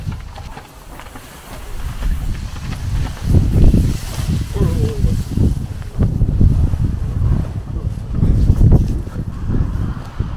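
Strong gusty wind buffets a microphone at a campsite, with rumbling, uneven blasts rising and falling throughout and people talking over it.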